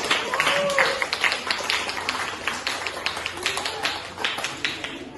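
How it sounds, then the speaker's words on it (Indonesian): A classroom bursts into applause after a group presentation, a dense run of many hands clapping at close range for several seconds, with scattered voices mixed in. "silakan memberikan tepuk tangan kepada"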